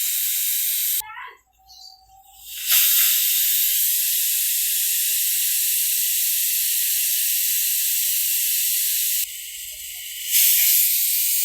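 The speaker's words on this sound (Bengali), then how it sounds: "এইমাত্র একটা সিটি দিল, 4টা সিটি হয়ে গেলেই খুরমা হয়ে যাবে।" A pressure cooker cooking kabuli chana lets out a loud, steady steam whistle-hiss that runs nearly continuously, broken by two short pauses where faint sounds come through.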